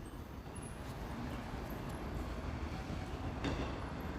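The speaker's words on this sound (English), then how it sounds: "Oh, another train." Train passing through downtown Toronto on a rainy evening, a steady low rumble of wheels and rail cars rolling by at moderate distance amid city and street noise.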